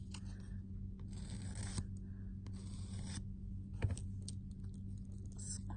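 A nail file scrapes along the bottom of a diamond grip volume lash tweezer blade in a few quick, quiet rasping strokes, close up over a steady low hum, with no talking.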